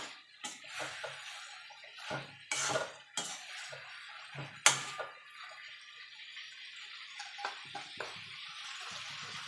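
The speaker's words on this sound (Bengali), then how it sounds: "আলুটা দিয়ে মশলার সঙ্গে একটু কষিয়ে নেবো" Small new winter potatoes stirred in spice paste in a pan: intermittent spoon scrapes and clatters against the metal in uneven bursts, with a soft sizzle between them.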